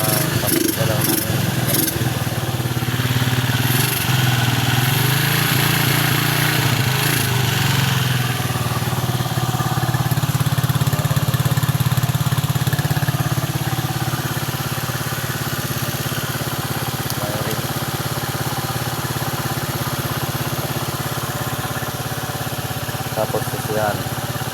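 A Suzuki TC125 motorcycle engine runs close by with a misfiring carburetor, a loud, uneven putter and rumble that holds steady throughout.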